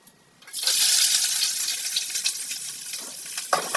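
Mustard seeds spluttering and crackling in hot oil while cooking dried fish curry, a dense, steady sizzle that starts abruptly and keeps popping throughout.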